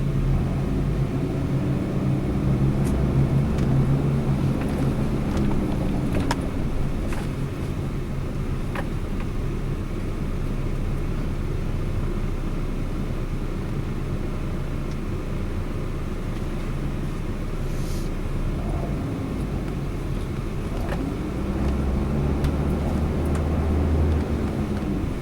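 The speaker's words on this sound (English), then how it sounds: "let's go ahead and take this 2008 Hummer H3 for a test drive" A 2008 Hummer H3 Luxury on a test drive, its engine and road noise forming a steady low rumble heard from inside the cabin for the whole stretch, with no talking.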